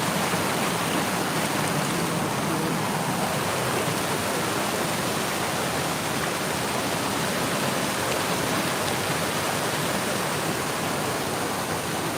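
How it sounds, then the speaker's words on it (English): Rapids of a river rush steadily through dark woods at night, a loud, unbroken roar of churning water close by with small waterfalls, filling the whole stretch without pause. "The rapids."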